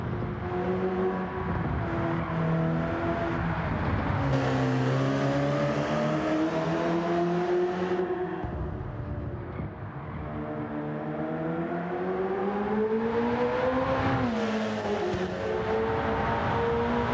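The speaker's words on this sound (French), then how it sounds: "quand je rétrograde, le bruit que ça fait, c'est excellent." A 1968 Alpine A220 race car engine in Gran Turismo 7 roars and revs on a Nürburgring time trial, its pitch dropping and climbing as it shifts down through gears, loud and continuous with no talking.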